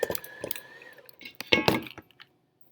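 Cream cheese icing is stirred in a bowl with a utensil, giving clinking, scraping knocks of irregular rhythm, a busier burst near the end, then quiet.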